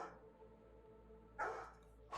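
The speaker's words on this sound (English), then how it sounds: "I have a feeling my dogs are gonna bark for the next like 2 minutes" Pet dogs bark in a couple of short bursts, a loud yapping outburst mid-clip and another just starting at the end, over a quiet background.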